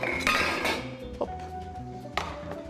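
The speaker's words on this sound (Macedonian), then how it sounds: "Една тава." Kitchen clatter, with a pan and dishes clinking and knocking: a few sharp metallic hits and a ringing clink, close and moderately loud, with music playing underneath and no talking.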